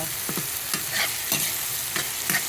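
Softening tomatoes frying in a pan are stirred with a utensil, giving several distinct scraping strokes in an irregular rhythm over a continuous close sizzle, with no voices.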